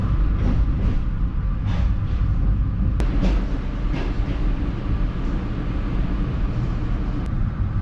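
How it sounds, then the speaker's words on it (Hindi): Shalimar Express passenger train leaving Karachi Cantt, heard from inside the parlor car while moving slowly: a loud, steady low rumble with faint rhythmic wheel clacks and an occasional metallic tick, no talking. "कराची कैंट से ही जो ट्रेन है वो काफ़ी स्लो चल रही है"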